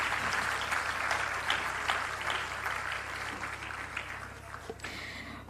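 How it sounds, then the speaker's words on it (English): An audience at a campaign launch event gives a round of applause, a sustained wash of clapping with scattered louder claps, fading a little near the end. "I think they deserve a bigger round of applause than that,"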